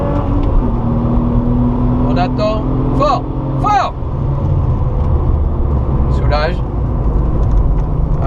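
A Porsche 997 Targa 4S accelerates on the Circuit de Bresse, its engine a loud continuous close drone heard from inside the car while a coach speaks over it.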